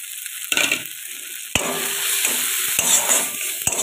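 Ground cumin, turmeric and chili powder fry in hot oil in a pan for a fish curry while being stirred, a close continuous sizzle broken by a few sharp scrapes of the spoon against the pan.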